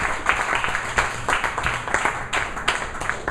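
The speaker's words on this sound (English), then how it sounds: "So big round of applause for Archita." Applause for a speaker at a KTM club meeting, a modest group clapping in uneven bursts for a few seconds, moderately close and steady without talk over it.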